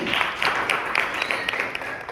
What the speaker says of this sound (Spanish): Un aplauso para Marcel, muy bien